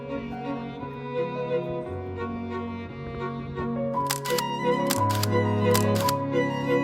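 A camera shutter firing several times in quick bursts while taking selfies on a bay overlook at Villefranche-sur-Mer, crisp clicks over steady music, no voices.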